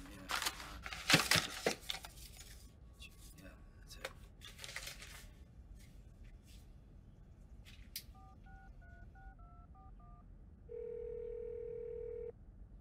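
A telephone is dialed to return a call: a burst of handling and rustling noises, then a quick run of touch-tone beeps followed by a steady ringback tone, with a brief voice early on.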